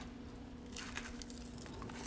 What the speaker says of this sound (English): Want to hear that crunch?